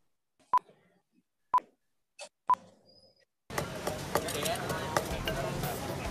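Som tam papaya salad being made: three sharp, separate knocks of pestle in mortar with clattering between, then a dense, continuous run of rapid pounding, tossing and kitchen clatter.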